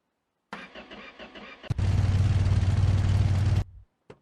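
A car fitted with an I6 engine in a garage cranks with a rapid starter chatter, then catches into a loud, rough, steady running roar, which cuts off abruptly about two seconds later.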